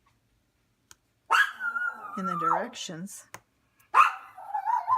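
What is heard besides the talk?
dog barking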